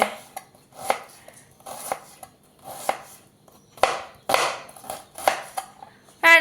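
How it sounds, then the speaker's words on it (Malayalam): Onion being finely chopped on a board, a steady run of sharp knife taps in uneven bursts, close and crisp, with a brief metallic ping at the end. "ഇത് സവോള കുഞ്ഞുകുഞ്ഞേന്ന് ചെയ്യുന്നത്"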